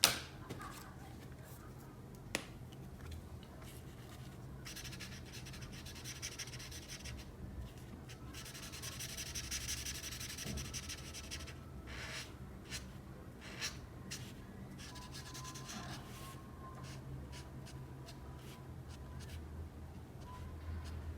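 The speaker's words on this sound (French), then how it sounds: "on peut colorier la peau du personnage avec du 4115 des graphites" Graphite pencil colouring skin tones on paper in a drawing, soft continuous scratchy strokes close up, quiet and steady with occasional small taps, under faint background noise.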